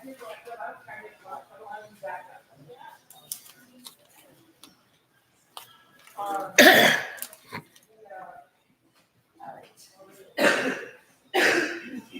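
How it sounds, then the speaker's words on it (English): Several sharp coughs, close and fairly loud, come in separate bursts near the end, after a stretch of soft rustling and quiet, muffled activity. "Everyone's got that cough that has that little edge there."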